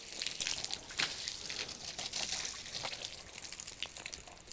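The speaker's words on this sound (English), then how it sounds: "So we're just going to spray water on top" Water from a hose sprays steadily against a house window, a continuous hissing splash with brief louder bursts, close to the microphone and with no talking over it.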